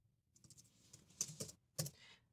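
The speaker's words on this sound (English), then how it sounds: "and now I can start typing" Faint clicks of typing on a computer keyboard, a handful of soft keystrokes in an otherwise quiet room.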